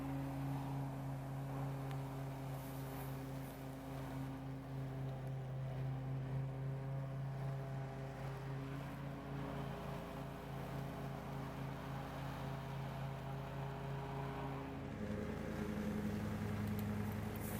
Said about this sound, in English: as I chop the leaves and they get pushed out a little bit, they just lay in the area